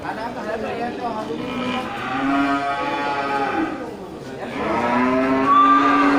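Aceh cattle at a livestock market low in long, drawn-out moos, one after another, close and loud against a steady background of market noise.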